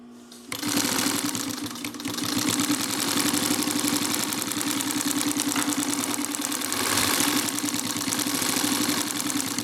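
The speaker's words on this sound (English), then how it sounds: "And you can see it sews like a standard machine." Singer 44-9 walking foot sewing machine stitching through four layers of material, a steady fast mechanical chatter of needle and feed running continuously near and alone after a brief start.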